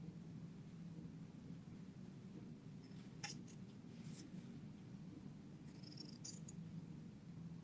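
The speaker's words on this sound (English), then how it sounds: "But I love cutting with these scissors." Sewing scissors cut through fabric in a few short crisp snips, close and fairly quiet over a low steady room hum, with no talking.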